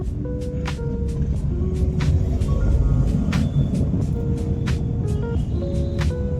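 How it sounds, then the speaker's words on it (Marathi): Wheel noise from a Maruti Suzuki Alto K10 due for a major service with worn suspension bushings and bearings: a steady droning hum under continuous road rumble, with sharp ticks and clicks recurring at roughly regular intervals. "चाकातून आवाज कसा येते बघा"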